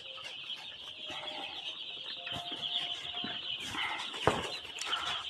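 Young farm chickens about three days old, a steady soft chorus of peeping and clucking from many birds at once, constant and fairly faint, with one brief knock partway through and no talking.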